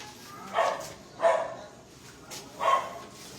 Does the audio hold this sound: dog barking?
yes